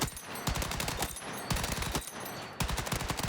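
A weapon in Battlefield 6 fires in rapid automatic bursts, several long strings of sharp shots separated by brief pauses, steady and moderately quiet with no talk.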